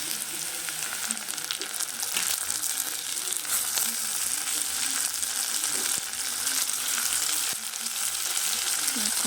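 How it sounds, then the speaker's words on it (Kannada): Onions and tomato fry in a pan for a potato palya, a dense continuous sizzle with soft stirring scrapes and light clinks throughout, fairly loud and close, with no speech. "ನೋಡಿ, ಇವಾಗ ಚೆನ್ನಾಗಿ ಫ್ರೈ ಆಗಿದೆ ಈರುಳ್ಳಿ ಎಲ್ಲ. ನಾನೀಗ ಟೊಮೆಟೊ ಹಾಕೋತಾ ಇದ್ದೀನಿ."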